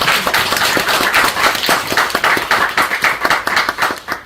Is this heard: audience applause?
yes